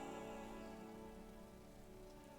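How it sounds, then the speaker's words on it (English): Steady rain falls in the video game Disco Elysium, a constant even patter on a rooftop surface that holds at a moderate level throughout, with no voices. "it is raining, in fairness"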